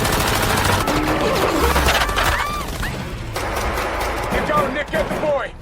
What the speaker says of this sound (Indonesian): Di sana pun terjadi baku tembak antara Yas dan Zurab.